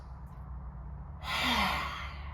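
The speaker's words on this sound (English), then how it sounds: "A few inhales and exhales to stretch, to yawn, to lion's roar." A forceful open-mouthed lion's breath exhale during a yoga flow, one loud breathy rush arriving partway through over a steady low hum, lasting about a second before fading.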